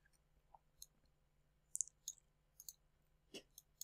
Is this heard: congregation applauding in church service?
no